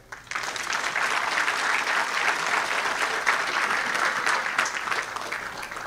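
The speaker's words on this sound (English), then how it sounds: "Put your hands together for the Belize Social Security Board." Audience at a debate competition final applauds the Belize Social Security Board, a dense, even burst of clapping from the whole room that starts abruptly and holds steady.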